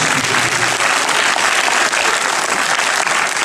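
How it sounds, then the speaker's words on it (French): A studio audience applauds loudly and steadily, a dense wash of clapping that holds at full strength from start to finish without pause. "On peut l'applaudir très fort."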